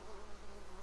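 Honeybees buzzing in Ghost of Tsushima, a steady close insect drone with a slight wavering pitch, heard alone.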